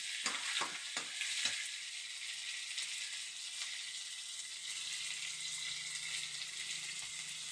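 Chopped onions sizzle steadily in hot oil in a pan, a dense continuous frying hiss with a few sharp stirring clicks early on, close and alone.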